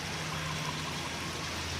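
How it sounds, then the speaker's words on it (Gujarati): A forest stream on Mount Abu runs in dry weather with a steady, even rush of water, continuous and moderately close, with no other sounds standing out. "અહીંયા કંઈ તમને વરસાદ નથી અત્યારે, છતાં ઝરણું ચાલુ જ છે"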